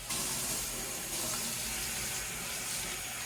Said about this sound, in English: I'm going to add my water, which is 362 grams.